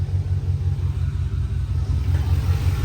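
A Chevy 5.7 V8 idles steadily after an intake leak repair, a low, even engine rumble with a regular pulsing beat, close and continuous throughout.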